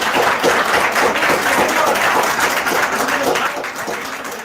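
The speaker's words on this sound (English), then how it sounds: "The audience is clapping because she didn't answer the question" A studio or event audience breaks into sustained, loud applause, steady clapping filling the whole stretch before tapering slightly at the end, with a faint voice buried underneath.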